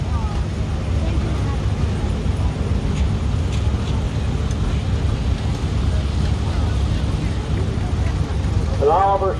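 A 1950 Oliver 66 tractor rolls along in a farm club tractor parade, its engine giving a steady, loud low rumble close by throughout, with faint voices in the background.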